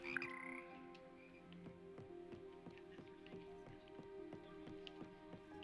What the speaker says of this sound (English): It's just normal frog noises.